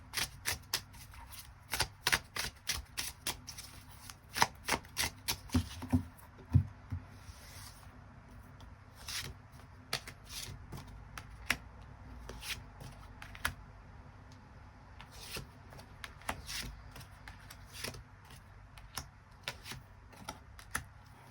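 Tarot cards being shuffled and drawn, a long series of close, crisp card snaps and flicks, dense and quick at first, then sparser, over a quiet background.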